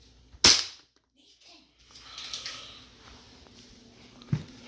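A small gas-powered airsoft pistol fires a single sharp, loud crack up close, followed by quiet handling noise and a faint knock near the end.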